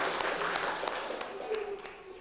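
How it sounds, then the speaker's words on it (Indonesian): Applause from a class audience for a student group presenting on narrative texts, a steady wash of many hands clapping at close range, lasting the whole moment without a break. "Kepada kelompok teks narasi kita kasih tepuk tangan terlebih dahulu."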